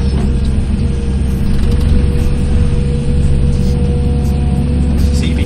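Excavator working a ditch with its bucket and thumb, heavy continuous engine drone with clanking, ratcheting mechanical noises layered on top, loud and close throughout.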